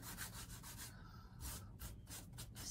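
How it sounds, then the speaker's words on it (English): An old metal filing cabinet is sanded gently by hand, with soft rhythmic rubbing strokes that rise and fall, quiet and close, with no talk. "I could come back and gently sand a little."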